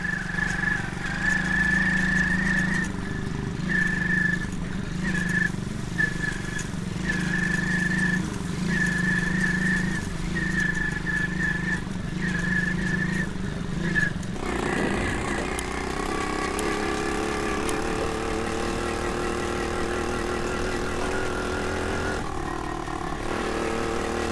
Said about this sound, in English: With one limb thrust on the pedal and the engine roaring, I took the bike for a ride.